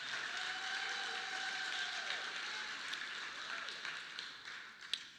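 Audience at the opening ceremonies of a men's empowerment summit clapping and cheering, a dense wash of applause from a large crowd that thins out toward the end, with some voices mixed in.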